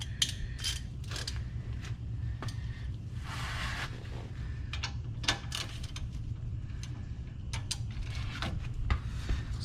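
Worn ratchet mechanism on a 2000-2006 GMC Yukon XL brake job, its teeth slipping in a quick run of irregular metallic clicks and snaps over a steady low hum, close and fairly loud, with no voices.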